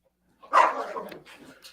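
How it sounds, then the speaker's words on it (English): A dog lets out one sharp, close bark that trails into a brief whine, then a faint yip, in an otherwise quiet room. "And we have a dog. We have a dog co-host as well."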